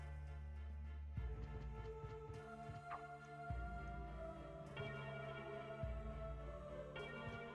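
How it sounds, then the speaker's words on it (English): Bell tones ring out in the video game Castlevania: Symphony of the Night, struck repeatedly at a steady pace over a sustained, layered musical backdrop. "bell sounds amazing."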